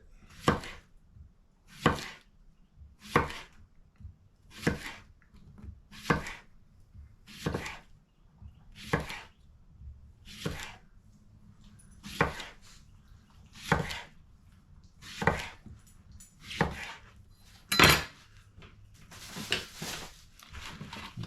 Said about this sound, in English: We'll do 1 of the zucchini. Same thing. Cut it into rounds about 1/4 of an inch thick.